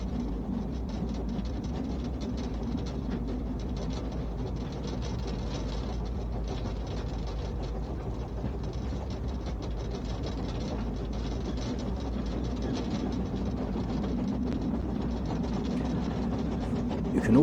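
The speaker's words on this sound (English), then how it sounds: "Some slight slippage there as we get the train moving once again to make our way around the loop." A train on the loop at Statfold rolls with a steady mechanical rumble and rattling clatter, the wheels slipping slightly as it gets moving, running continuously at a moderate distance for the whole stretch.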